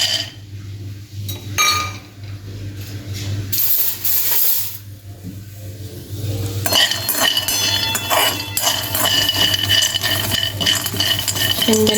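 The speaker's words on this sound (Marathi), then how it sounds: "आता आपण शेंगदाणे भाजून घेऊया।" Peanuts roasting in a pan on a gas stove are stirred, giving repeated close metallic scrapes and rattling clinks over a steady low burner hum, becoming denser and continuous in the second half.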